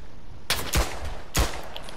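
Three sharp pistol shots in a World War I trench battle game, close and loud, the first two in quick succession and the third after a short pause, over faint background noise.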